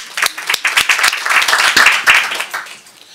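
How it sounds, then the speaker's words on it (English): A conference audience applauds a speaker after a talk at a library session, a burst of many hands clapping that swells and then tapers off over about three seconds. "I think everybody owes you a round of applause"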